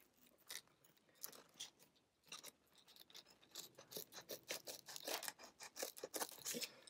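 Scissors cutting through a dark gray pleated blackout blind with tape along its bottom, heard as a quiet series of crisp snipping and crunching cuts, growing denser toward the end.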